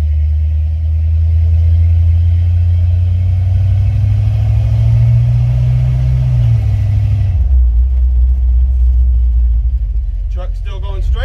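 Engine of a 1954-1971 Dodge D100 pickup rumbles steadily during a test drive after a disk brake conversion, its low drone rising slightly then dropping off as the truck slows, with a voice briefly heard near the end.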